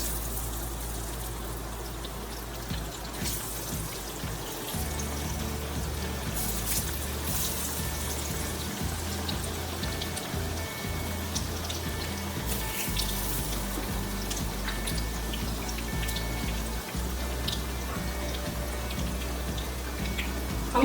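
Batter-dipped eggplant pakoras fry in hot oil, a steady even bubbling hiss that stays constant throughout, close and unbroken, with no voices.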